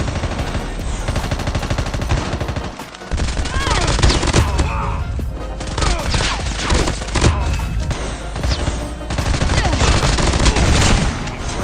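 Dense, sustained automatic gunfire and bursts of shots in a Call of Duty Mobile battle royale firefight while under fire, loud and continuous with a brief dip near the three-second mark before resuming.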